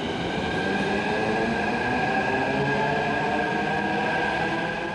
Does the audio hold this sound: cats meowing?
no